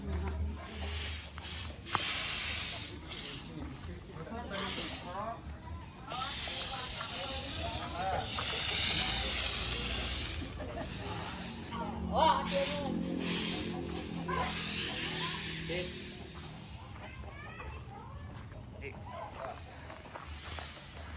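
A fogging machine sprays insecticide in a neighbourhood with loud, long hissing bursts, while people talk nearby and children's voices mix in.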